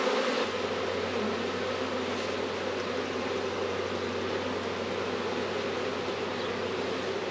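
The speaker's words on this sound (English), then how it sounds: "This is such a large swarm I have." A large honeybee swarm buzzes in a dense, continuous drone close by, steady and unbroken from start to finish with no voices.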